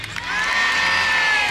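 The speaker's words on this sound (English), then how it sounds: "A special cheer, ladies and gentlemen." A crowd at the Bo'ness Children's Fair bursts into a loud, sustained cheer for a boy named Richie, many voices shouting together in a brief swell.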